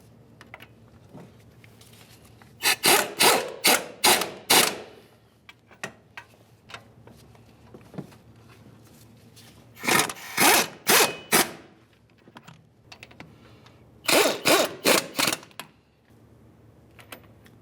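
Bolts on a front wheel hub and bearing assembly of a 2005-2010 Dodge Dakota being snugged up with a ratchet, heard as three bursts of rapid clicking separated by pauses, close and fairly loud.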